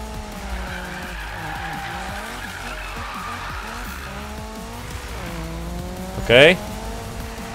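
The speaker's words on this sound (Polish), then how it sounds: "Taki ładny driftik zrobiłem" Tires squeal as a car drifts in the Need for Speed 2015 racing game, a continuous skidding screech over engine drone with a sharp louder burst near the end; someone speaks briefly.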